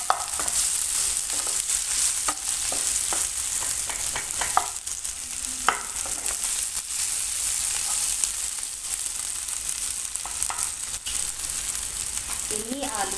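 Boiled potato pieces stirred into a frying pan for a fasting meal, a steady sizzle of frying with repeated scraping stir strokes, close and continuous, with a brief bit of talking near the end.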